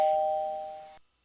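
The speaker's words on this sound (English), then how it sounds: "So I did hear an alert, audio alert." Alert chime from a trading chart platform: a single bright electronic ding that rings out and fades over about a second before silence.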